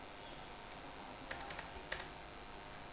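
Quiet clicking of keys on a computer keyboard as a file name is typed, a soft steady run of taps with a few sharper keystrokes, close and alone.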